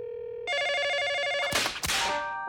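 A cartoon telephone gives a buzzing electronic tone, then rings loudly in a warbling bell pattern. Two sharp clattering hits follow, as if the receiver is grabbed, and the tone trails off near the end. Everything is close and clear, with no speech.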